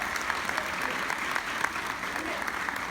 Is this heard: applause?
yes